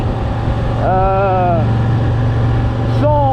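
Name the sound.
Moto Guzzi V85TT motorcycle engine in sixth gear at 2800 rpm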